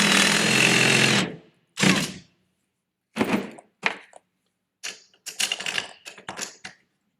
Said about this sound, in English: repeat the process and drill the second hole